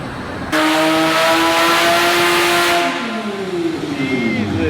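A 1974 Mini Super Cooper S engine revving hard on a dyno, a loud, close, sustained high-pitched howl that climbs in pitch and then drops as it backs off.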